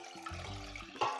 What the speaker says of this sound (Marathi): थोडीसं डाळ घोटत घोटत घालायचं पाणी